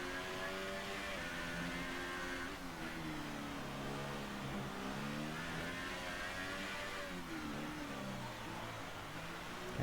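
A Formula 1 car in a racing video game at Monaco, its engine screaming at high revs through the harbour chicane, the pitch rising and dipping with gear changes, steady and continuous throughout.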